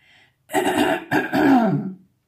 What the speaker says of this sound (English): I have the winter cough